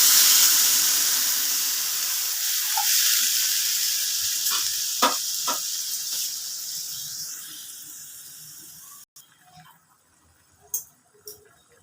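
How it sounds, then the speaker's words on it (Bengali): Water poured into a hot pan for suktor dal, bursting into a loud hissing sizzle that gradually fades over several seconds, followed by a few faint clinks and utensil taps once it quiets. "এবার আমি জল দিয়ে দিলাম।"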